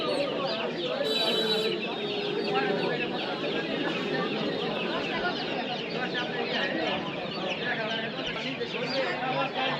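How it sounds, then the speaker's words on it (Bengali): Dense, continuous high peeping from many month-old Tiger breed chicken chicks fills the space at a livestock market, with market chatter and voices mixed underneath throughout. "এই যে এখানে সুন্দর সুন্দর টাইগার মুরগির বাচ্চা আছে"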